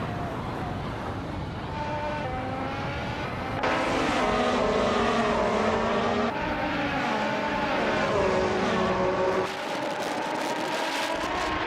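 Williams FW40 Formula One car engine in a racing video game, a loud sustained high-revving whine with shifting pitch and gear changes, continuous and close, with no talking.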